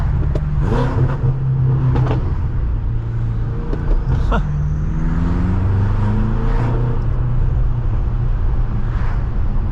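A tuned 800-horsepower BMW M6 Gran Coupe revs and accelerates, its engine note rising and falling in loud sweeps over steady road roar, heard from inside the car.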